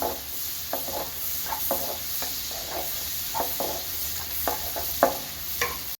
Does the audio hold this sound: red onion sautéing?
yes